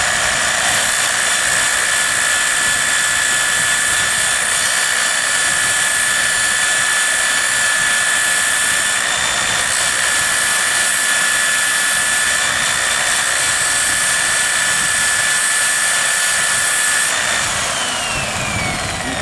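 A power sander grinds down a dried agave stalk being made into a didjeridoo, run off a generator outdoors; a loud, steady whirring buzz continues without a break for nearly twenty seconds, with no talking.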